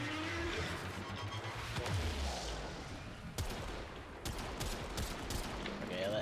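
Gunfire rattles in the video game Warframe as a player shoots the Eidolon Teralyst, rapid bursts and sharp cracks over a dense, loud battle din with rumbling effects.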